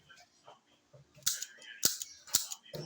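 A toy gun with a spinning cylinder gives three sharp, snappy clicks spaced about half a second apart, close and fairly loud, after some faint handling noise.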